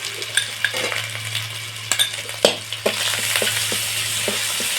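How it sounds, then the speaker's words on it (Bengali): A yogurt-based spice paste hits hot oil in a frying pan with a loud, steady sizzle, broken by several sharp spoon scrapes and stirring clatters against the pan. "সেই মশলাটা দিয়ে দিচ্ছি।"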